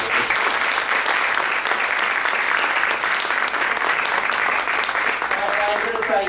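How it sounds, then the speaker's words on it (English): Sustained, dense applause from a large conference audience at an arts-in-society opening and welcome, steady and loud throughout and fading only slightly near the end. "we've got to give them a round of applause for being"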